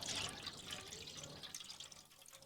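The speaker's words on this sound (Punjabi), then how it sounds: "ਉਹ ਛੋਲਿਆਂ ਦਾ ਪਾਣੀ ਆਪਾਂ ਇਹਦੇ ਵਿੱਚ ਕੱਢ ਦੇਣਾ ਹੈਗਾ" Chickpea cooking water, left from boiling the chickpeas for a homemade livestock feed, is poured out in a soft, steady trickle with faint splashing. It is quiet and close, with no talk.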